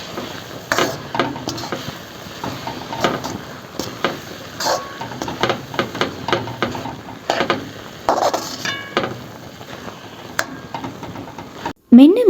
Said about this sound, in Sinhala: බ්ලෙන්ඩර් කරලා පෙරාගත්ත බීට් ජූස් එක මේ වගේ එකතු කරලා හොඳටම මිශ්‍ර කරගන්න ඕනේ